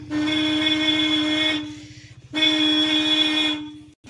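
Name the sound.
vehicle horn sounding after pulling the L-type switch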